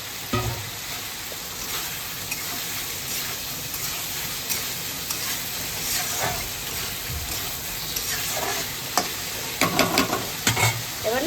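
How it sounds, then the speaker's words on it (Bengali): Prawns stir-fry with pointed gourd and spices in a pan, producing a loud, steady sizzle and crackle. Scraping stirs and a few sharp utensil clanks come near the end, with no voices. "চিংড়ি মাছগুলো এটার সাথে কষিয়ে নেবো একদম।"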